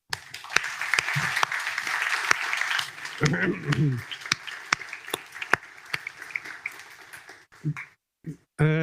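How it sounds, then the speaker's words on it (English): An audience applauds the Startup Portugal team at a monthly startup pitch hangout, the clapping continuous with voices mixed in and fading into scattered claps near the end. "I would like a special round of applause to the Startup Portugal team."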